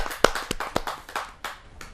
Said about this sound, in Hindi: मैं आमंत्रित करता हूँ आप सबकी जोरदार तालियों से।